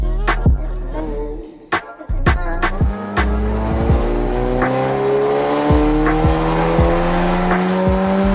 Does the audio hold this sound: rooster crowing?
no